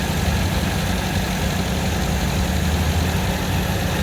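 A 1966 Volvo Amazon at a cars and coffee meet idles with a steady, loud, low rumble from close by, the engine running evenly without a break.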